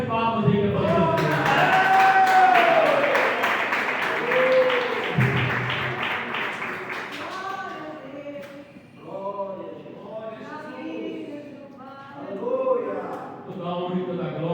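Church congregation applauding and cheering during a mission service, a dense burst of clapping that swells for several seconds, then fades as a preacher resumes speaking over the room.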